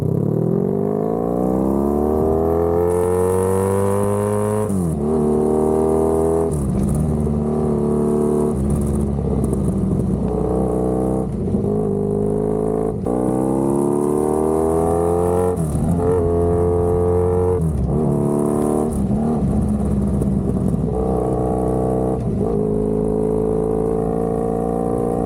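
The engine of a 1982 Honda Magna motorcycle roars loud and close through a long ride, revving up through the gears again and again, with pitch climbing and then dropping at each shift.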